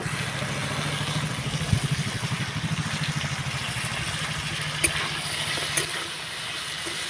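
Chopped carrot, tomato, beans and soaked peanuts frying in a pan, a continuous sizzle with a rhythmic low churning from stirring and a few faint clicks of the utensil.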